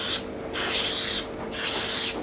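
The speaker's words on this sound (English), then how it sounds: "Give me a little spray." Cooking spray is sprayed onto non-stick pie tins for individual steak and mushroom pies: two steady, close hissing bursts, each about half a second to a second long, separated by a short pause, with no talking.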